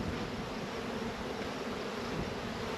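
Honeybees swarm around open hives as they are worked outdoors on a warm, breezy day of equalizing and splitting colonies, giving a steady, dense buzzing drone that fills the air without a break or any voices.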